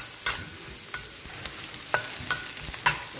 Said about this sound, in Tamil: ஸோ ஹை ஹீட்டில் வச்சு நான் இதை வந்து ஃப்ரை பண்ணிட போகிறேன்.